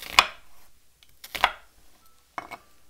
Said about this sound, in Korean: 양파는 한 사각으로 썰었는데 한 2cm 그 정도 넓이로 썰겠습니다